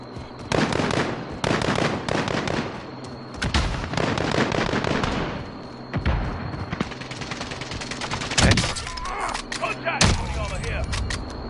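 Gunfire from a console shooter video game played on PS4: rapid, loud bursts of automatic fire and sharp shots, repeated in clusters throughout, with short gaps between volleys.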